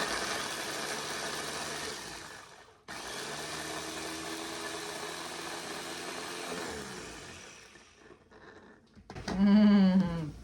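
A blender chopping sweet corn whirs in a steady loud grind for several seconds, briefly cuts out, runs again, then winds down before a short spoken remark.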